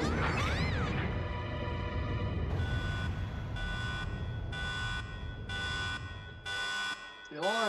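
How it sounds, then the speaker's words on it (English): A looping electronic alarm from the Resident Evil 2 video game pulses in steady, evenly spaced bursts over a dense, rumbling game soundscape, loud and continuous for several seconds. "The alarm is back!"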